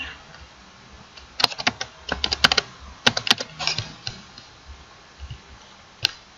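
Close, crisp clicks of a computer keyboard as a few JavaScript characters are typed, spaced irregularly with brief gaps, alone without any voice.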